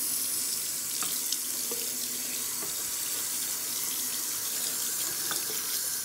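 Water runs steadily from a tap in a continuous hissing stream onto a shirt being soaked, close and fairly loud, with a few faint clicks and knocks beneath.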